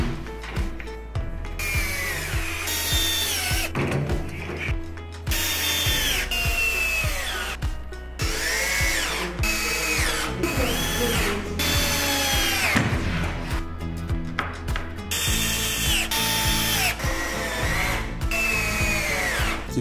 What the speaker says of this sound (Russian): Мастер наживляет евровинты от руки, затем протягивает их шуруповертом.